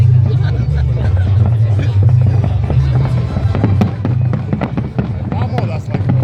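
Festive fireworks over Riga crackle and boom continuously, with dense bursts and sharp pops over a steady low rumble and a murmur of crowd voices.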